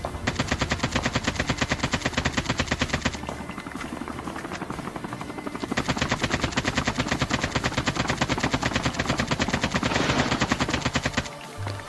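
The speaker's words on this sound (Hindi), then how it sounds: "तो मैं अपने AKM से डैमेज देता हूँ" Sustained bursts of rapid automatic AKM rifle fire in Call of Duty Mobile, loud and close, with a short pause in the middle, over a continuous helicopter rotor drone.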